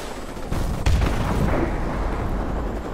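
Gunfire and heavy booms in a Call of Duty: Modern Warfare Remastered combat mission, a dense roar of shots and blasts that swells and holds loud through the whole stretch.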